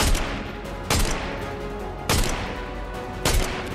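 Four sharp, loud gunshots ring out in the video game Fortnite. Each is a single crack followed by a short decay, spaced about a second apart.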